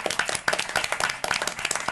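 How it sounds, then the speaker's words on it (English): A few people clap in a small briefing room at a civil rights commission hearing, brief scattered hand claps with a loose, uneven rhythm. "you can give them a round of applause"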